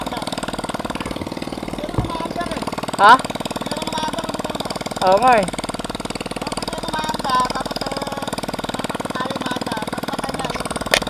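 A delivery rider's motorcycle engine runs steadily while riding through deep flood water in the Philippines, a continuous mid-pitched drone with a few brief bumps, heard under occasional short bursts of conversation.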